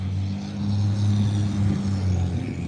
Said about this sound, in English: a truck is noisy